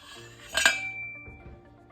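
A BMW R nineT fork cartridge slides out of its fork tube with a bright metallic clink and a ringing scrape, followed by a couple of softer knocks, close and alone.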